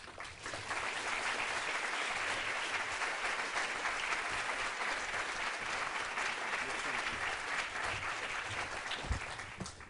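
An audience applauds to welcome a keynote speaker at a 2013 congress, a steady, dense wash of clapping from a sizeable crowd that holds for about ten seconds before thinning at the end.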